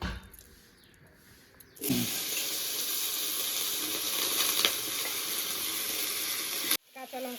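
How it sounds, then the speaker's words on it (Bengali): Chopped bottle gourd drops into hot oil with tempered cumin and bursts into a loud, steady sizzle that runs for about five seconds, then cuts off abruptly. "এবার লাউটা একটু ভেজে নেব"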